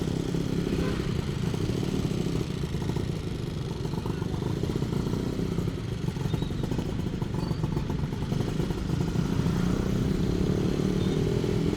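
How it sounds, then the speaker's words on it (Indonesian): Many motorcycles roar along a street in Tasik on a Saturday night, including two-stroke Satria bikes, in a dense, steady engine rumble that never lets up. "Banyak motor dong, ada acara nih kayaknya."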